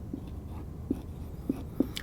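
Marker on a board writing a formula in a math lesson, a few short squeaky strokes, close and moderately loud with quiet gaps between.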